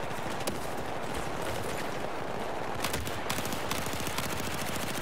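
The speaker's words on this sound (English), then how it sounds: "Please shoot the guy killing me from the right." Dense, sustained automatic gunfire from a Battlefield 4 campaign firefight, rapid overlapping bursts of shots rattling continuously and loudly with no pauses.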